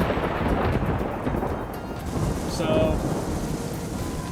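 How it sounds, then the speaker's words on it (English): Heavy rain pours down outdoors in a dense, steady wash, with low rumbles of thunder rolling underneath. One short spoken word is heard near the start. "it's raining. Bad, just like I said."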